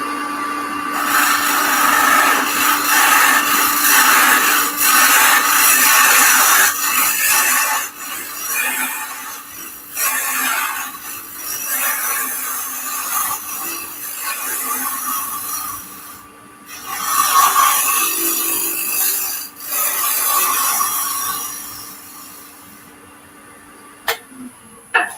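A wood lathe turns a piece of wood while a tool cuts into it, loud scraping and rasping bursts that come and go in waves over a steady motor hum, pausing briefly between cuts.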